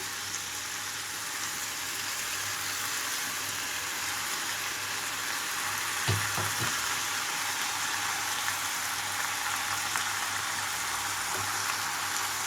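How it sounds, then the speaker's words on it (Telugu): Prawn curry with gongura leaves and chopped tomato frying in a pan, stirred over low flame: a steady, even sizzle and hiss throughout, with a few brief stirring clatters around the middle. "లో ఫ్లేమ్లోకి టర్న్ చేసి గోంగూర అంతా కూడా కూరలో కలిసేలాగా కలుపుకుంటున్నాను"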